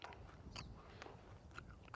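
Close, wet chewing of crystalline pine sap gum taken straight from the tree, with soft crunchy bites and smacking repeating steadily at a low level, no talking.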